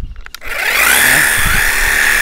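Worx Hydroshot 20V cordless power cleaner fed by a 20-foot hose from a 6-gallon bucket, sprays water after a few clicks. It builds to a loud, steady hissing rush that holds to the end.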